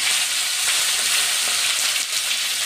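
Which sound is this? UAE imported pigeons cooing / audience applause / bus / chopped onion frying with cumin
chopped onion frying with cumin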